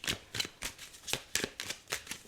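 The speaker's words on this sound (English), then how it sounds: "I just split the deck to shuffle it" A deck of tarot cards is split and shuffled, a run of about nine crisp riffling bursts in a quick steady rhythm, close and clear with no talking.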